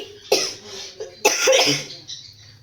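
A woman coughs in a home kitchen while making tea before cooking fish curry, two sharp, close coughs about a second apart, with a rougher throaty tail after the second.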